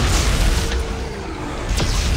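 Gunshot ricocheting in the video game Dead Space 3, a booming impact followed by rumbling, with a second sharp burst near the end against a loud, dense background of game noise.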